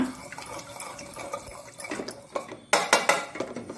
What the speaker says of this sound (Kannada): ಇದನ್ನು ಸ್ವಲ್ಪ ಹೀಗೆ ಒಂದು ಲೋಟದಲ್ಲಿ ಹೀಗೆ ಮ್ಯಾಶ್ ಮಾಡ್ಕೊಳ್ಳೋಣ